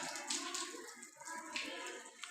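Tap water running and splashing as boys wash their hands and faces for ablution before prayer, a quiet close trickle broken by small hand splashes.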